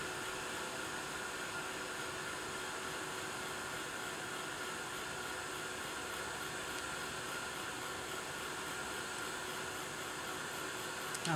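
A heat tool blows continuously to melt embossing powder, giving a steady, even whooshing hum that holds unchanged throughout with no pauses.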